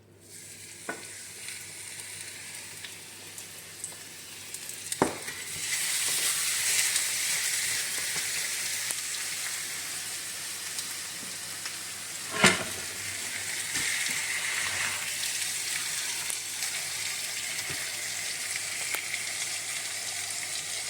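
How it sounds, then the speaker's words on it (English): Beef brisket sizzling in melted hot tallow, a continuous bright frying hiss that swells after the meat goes in, with a few sharp clinks and pops scattered through. "That's now melted and hot, so in goes the meat."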